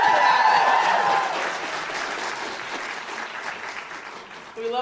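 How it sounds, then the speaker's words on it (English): Conference audience applauding during a keynote address, a dense burst of clapping that starts loud and gradually thins while continuing throughout, with some voices mixed in. "Give a round of applause for that."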